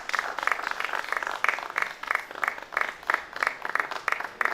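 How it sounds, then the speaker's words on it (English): An audience at a funeral-industry conference in Kenya claps in a steady, rhythmic pattern of regular bursts, moderately loud and continuous without talk. "Can you kindly clap for them?"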